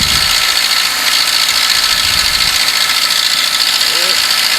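Moskvich 2141 car engine idling steadily throughout, a continuous even mechanical drone heard close up with no break.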